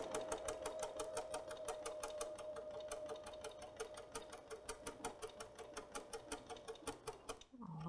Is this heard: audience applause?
no